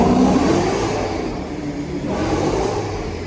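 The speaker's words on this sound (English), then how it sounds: "You're just gonna hear the fake supercharger." A V8 car fitted with a fake supercharger revs hard on wet pavement, a steady loud engine roar with a faint high whine riding over it, easing slightly mid-clip before building again.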